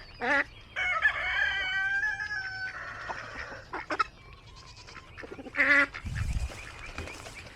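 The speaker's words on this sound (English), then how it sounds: "And here comes that rooster." A backyard rooster crows several times, loud and close, its drawn-out calls mixed with clucking from nearby hens and a brief low rumble near the end.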